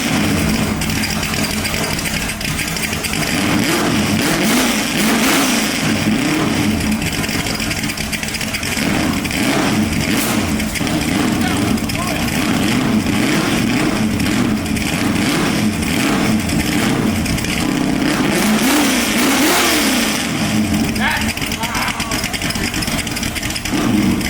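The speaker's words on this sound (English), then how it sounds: "I want to hear the 331 stroker through no mufflers and boom" A '65 Mustang's 331 stroker V8 runs without mufflers, through boom tubes. It is a loud, rough, lumpy idle that swells into repeated throaty revs and falls back, close up and continuous.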